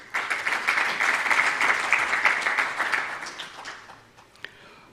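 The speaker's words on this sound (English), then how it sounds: "Give them a clap," Audience at an insurtech accelerator launch conference in Africa claps in a dense, sustained burst that slowly thins out and fades, with a few scattered late claps near the end.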